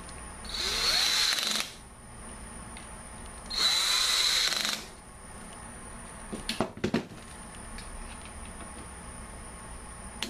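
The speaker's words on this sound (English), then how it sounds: "tighten the hose clamp to as tight as you can get it with a screwdriver" A power screwdriver tightens a hose clamp on a homemade surfboard bike rack, giving two short whirring bursts a couple of seconds apart. A few faint clicks and taps follow in the quiet room.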